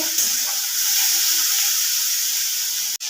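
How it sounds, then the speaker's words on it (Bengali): Spice paste for a hilsa fish head and taro leaf dish fries in a pan, a steady broad hiss close up with no voices, ending in a brief clatter. "মশলাটাকে একটু কষতে থাকবো।"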